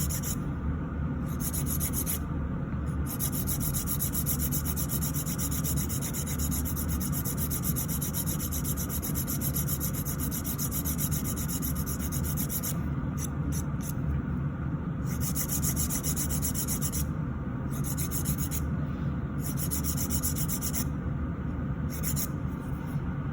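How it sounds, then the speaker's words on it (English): A fingernail being filed straight into a square shape, a continuous close scratchy rasp in rapid back-and-forth strokes with brief pauses. "I'm just getting underneath, filing this straight, getting underneath, filing this straight."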